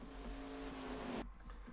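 A race car engine in the NR2003 racing game holds a loud, steady drone for about a second, then cuts off abruptly into quiet.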